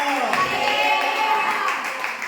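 A congregation claps together during a church worship service. The dense, steady clapping fills the whole stretch, with voices mixed in over it.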